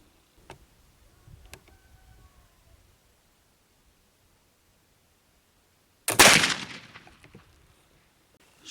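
A single loud, sharp gunshot from a gun loaded with homemade black powder bursts out near the end, its blast decaying briefly, after faint ticks and quiet handling.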